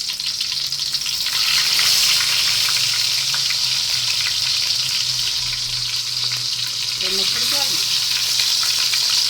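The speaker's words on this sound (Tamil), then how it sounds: "இப்போ பாருங்கள் எண்ணெய் நல்லா சூடானதுக்கப்புறம் கட் பண்ணி வச்சுக்கிறேன் பெரிய வெங்காயம் சேர்த்துக்கலாம்" Chopped big onions fry in hot oil, giving a loud, dense, continuous sizzle close up, with a few faint clinks partway through and no voices.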